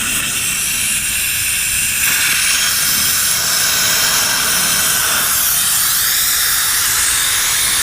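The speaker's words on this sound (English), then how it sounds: "So I will open up the relief valve," Compressed air rushes out of an open drain valve on a three-phase Speed air compressor tank, a loud, continuous broadband hiss that holds steady throughout with no voices.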